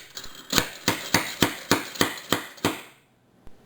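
A nail puller hammered into a sheet of plywood: eight sharp, evenly spaced striking blows in a steady rhythm, loud and close, then a pause and one lighter tap.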